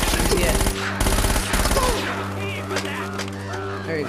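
Rapid automatic gunfire in the Uncharted Remastered video game's Customs House level, dense bursts of shots in quick succession near the start, then continuing lighter game action and effects, with players chatting over it.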